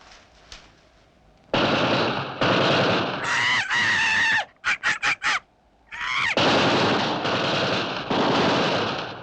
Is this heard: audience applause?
no